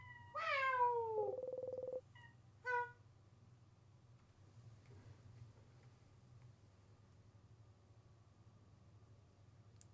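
A pet cat gives a loud, close, drawn-out meow with a falling pitch, followed by a short second chirp, then quiet room hum with faint background game sounds.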